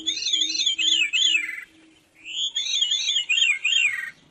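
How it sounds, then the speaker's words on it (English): Veery song, two bursts of spiraling, flute-like descending phrases, clear and close, separated by a brief pause. "So here's a song of a veery,"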